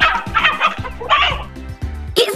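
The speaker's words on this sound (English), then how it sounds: "We met some chickens today and learned that they make this sound." A fowl sounds off in rapid, loud, choppy bursts of gobbling and clucking, close up and alone for a couple of seconds.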